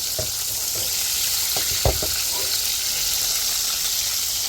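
River fish sizzles steadily in hot oil, a dense continuous frying hiss with a few soft thuds and clinks of a utensil against the pan, close and alone without voices.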